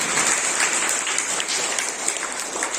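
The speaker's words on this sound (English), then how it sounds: "all the students give the big claps for them" Students at a Class IX school morning assembly clap together in a dense, sustained burst of applause that continues evenly throughout.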